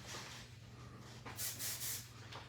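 Several short bursts of hairspray are sprayed underneath lifted sections of a layered bob, close and fairly soft, the strongest puffs coming in quick succession near the middle.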